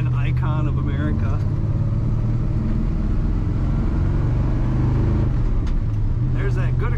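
A 1979 Chevrolet C20 Camper Special square-body pickup accelerating from inside the cab, its engine drone building and holding low and loud, with someone talking over it at the start and the end.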